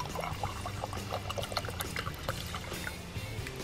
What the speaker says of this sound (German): Für einen Tee braucht man natürlich Wasser